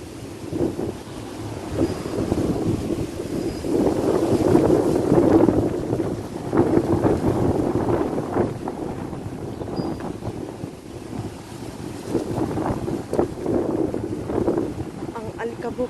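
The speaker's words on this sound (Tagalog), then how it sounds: "ang lakas ng hangin" Strong wind blows dust along an outdoor walk under hot sun, a loud continuous buffeting roar that swells and eases, with a voice speaking over it.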